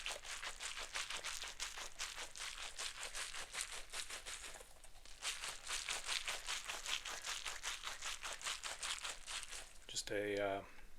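A towel is draped over a client at a haircut in a roleplay, giving a long, close run of soft cloth rustling and crinkling that carries on steadily, with a voice speaking over it near the end.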